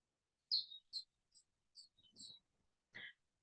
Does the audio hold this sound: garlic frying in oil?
no